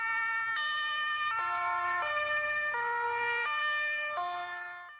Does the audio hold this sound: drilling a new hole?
no